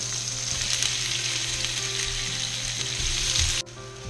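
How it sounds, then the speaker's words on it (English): Onions cook in melted butter in a skillet with a loud, even sizzle that holds steady close up, then cuts off abruptly near the end and leaves a quieter background. "now what I'm going to do is cook the onions"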